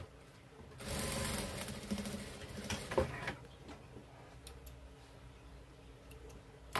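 Sewing machine stitching a fabric pouch, a rapid mechanical whir and patter that runs loudly for a couple of seconds, then gives way to quieter clicks and ticks of the machine.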